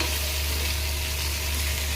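Onions and tomato sautéing in a pan for a soybean bhujia, a steady close sizzle and frying hiss running unbroken and fairly loud, with faint stirring and no voices.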